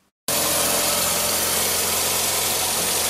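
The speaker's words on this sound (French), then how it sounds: "Donc voilà, le moteur il tourne." A Toyota Corolla engine, freshly serviced with an oil change and new spark plugs, starts abruptly and settles into a steady, loud, close idle with a constant droning hum and no voices.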